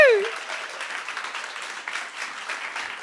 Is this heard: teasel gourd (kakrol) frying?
no